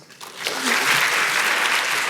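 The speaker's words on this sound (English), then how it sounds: "Can we give her a huge round of applause?" A bookstore-style event audience claps warmly for a memoir author and her interviewer, a steady round of applause rising quickly and holding close and full.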